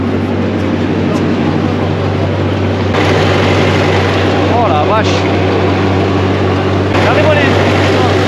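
A 1943 tank with twin V8 engines idles after a cold start, a loud, steady low rumble throughout, while people talk in French over it.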